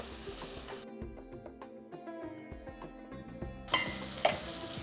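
Chopped tomato, onion and chilli powder sizzle while sautéing in a pan, a steady frying hiss broken by repeated clinks and scrapes of a spoon stirring against the metal.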